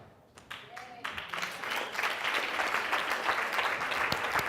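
A crowd breaks into applause that builds quickly and continues as dense, steady clapping, with a brief voice at the start.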